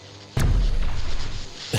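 Turret firing in Factorio, a sudden heavy boom that rumbles and decays over about a second, followed by the start of a second blast at the end.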